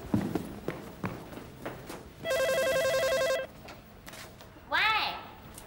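A telephone rings with a steady electronic trill lasting about a second, set among scattered knocks and household clatter in a Chongqing neighbourhood sitcom scene, followed by a brief rising chirp.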